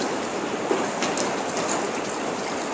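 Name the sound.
rain falling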